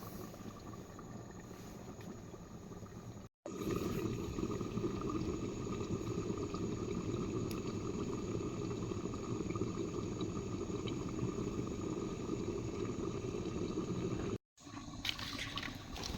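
Meat curry bubbles under a lid in a pot, a steady close bubbling and simmer broken by two brief cuts of silence.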